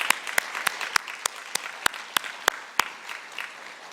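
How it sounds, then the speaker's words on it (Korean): Church congregation at a Sunday worship service claps to welcome a visitor: crisp, sharp claps in a fairly regular rhythm over a softer background patter, heard clearly without talk. "같이 박수하겠습니다"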